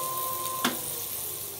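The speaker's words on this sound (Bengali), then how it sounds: "এই যে করলা ভাজাটা বসাই দিছি" Bitter gourd frying in a pan gives a steady close sizzle throughout, with one brief sharp crackle partway through.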